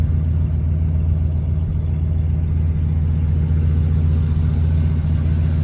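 A restored 1970 Oldsmobile Cutlass Supreme engine idles steadily nearby, a constant low hum and rumble with no revving and no talking.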